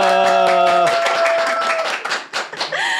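Clapping and cheering from a studio audience at the opening of a Chuseok holiday special talk show, a burst of hand claps with voices and a held musical tone under it at the start.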